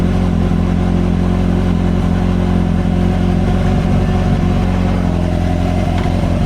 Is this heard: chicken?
no